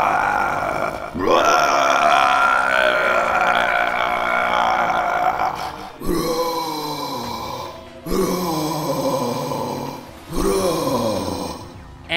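A voice imitates the burping roar of Guzzlord, a gluttonous Pokémon, with long, guttural belching groans, a drawn-out one followed by three shorter rising-and-falling bursts with brief gaps, loud and close.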